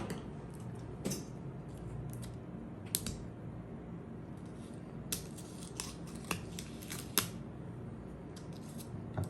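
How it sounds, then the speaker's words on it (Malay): Scissors slowly cutting open the plastic packaging of a book, close and quiet, with separate crisp snips and crinkles spaced irregularly over several seconds and no speech. "Takut rosak buku slow gunting."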